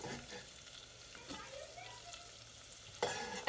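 Seasoned chicken browns in a pan with a steady, quiet sizzle, broken by occasional stirring scrapes and a louder burst of frying near the end.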